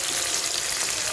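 Chopped onions drop into hot oil for a beef dum biriyani, giving a steady, close, fairly loud sizzle that hisses evenly and without a break, with no voices over it.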